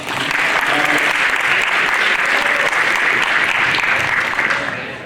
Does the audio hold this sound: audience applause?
yes